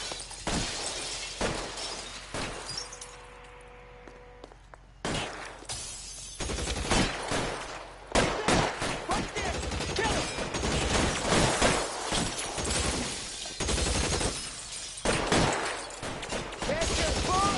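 Chaotic gunfight in L.A. Noire: repeated loud gunshots and rapid volleys mixed with shattering glass, fire coming in irregular bursts after a brief quieter lull, with voices shouting over the shooting.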